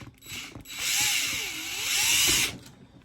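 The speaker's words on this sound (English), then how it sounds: "You hold it like that, firmly, and then use the drill." A power drill whirs steadily for about two seconds, its pitch dipping and rising as it drives an ice stud into a shoe sole, then stops.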